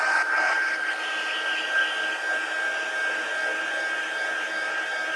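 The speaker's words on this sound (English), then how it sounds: "Let me get this with the heat gun real quick." A heat gun blows a continuous, fairly loud whooshing roar with a thin whine while drying a paper-pieced collage, steady throughout without speech.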